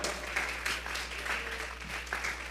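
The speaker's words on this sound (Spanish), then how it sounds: "Vamos a regalarle ofrenda de palmas al Dios de la gloria." A church congregation applauding at a Spanish-language sermon, moderately loud clapping that swells in waves over a low steady hum.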